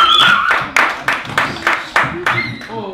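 Audience in a theatre workshop claps in a steady, evenly spaced rhythm of sharp, loud hits for about three seconds, with voices talking and calling out over the clapping.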